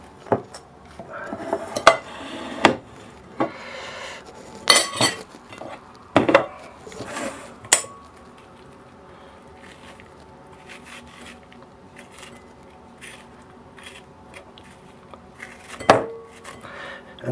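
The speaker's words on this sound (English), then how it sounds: "And this soft inner stuff seems to be fairly easy to get rid of just with a spoon." A spoon scraping seeds and soft stringy flesh out of a pumpkin, with sharp clinks and wet scrapes in irregular bursts, close and fairly loud, then quieter squelchy scooping, with no talking.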